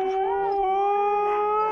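Siberian Husky sled dogs howl in a steady, sustained chorus of long tonal wails, close and fairly loud, on a winter dog sled run.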